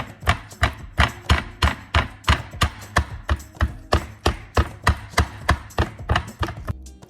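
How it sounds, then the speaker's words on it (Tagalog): Beef pounded with a pestle to tenderize it for Filipino morcon: a steady run of about twenty sharp, heavy thuds, evenly spaced and close, loud and alone without talk. "I'm going to pound this meat."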